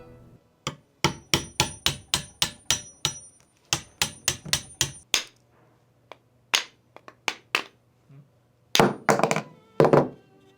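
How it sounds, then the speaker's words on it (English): A hammer drives a chisel to strip a moldy, rotted handle from a knife tang, giving rapid runs of sharp, loud metallic strikes in bursts separated by brief pauses. "I chose to use a hammer and chisel for this one."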